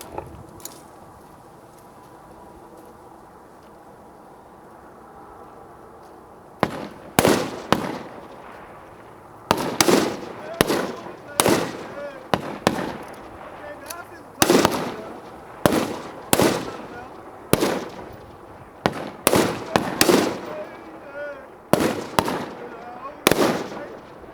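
Sharp gunshots from M4 rifles on a qualification range, fired in a rapid irregular series after a quieter opening stretch, each report loud and close with a short decay.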